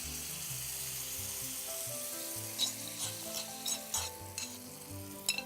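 Chopped garlic sizzles steadily in a hot pan while being stirred, with a few sharper scraping clinks of the spoon near the end; a faint tonal hum runs underneath, and no one speaks.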